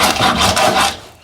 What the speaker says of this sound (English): that is me sawing a whole fish in two